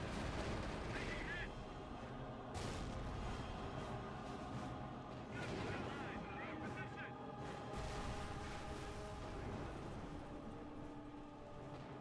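Anti-tank gun fire in a strategy game, a series of heavy booming shots and rumbling blasts repeating through a dense, continuous battle din, with a voice talking over parts of it.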